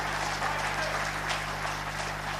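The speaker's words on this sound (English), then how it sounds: "Can you clap for Jesus?" A church congregation claps together, a short burst of dense steady applause filling the room with a low hum underneath.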